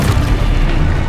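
Explosive Confringo spell blast in the Hogwarts Legacy video game: a loud, deep, rumbling boom that fills the whole moment, with no voices.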